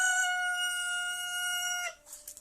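A rooster crows loudly nearby in one long, clear cock-a-doodle-doo, ending with a short trailing cluck.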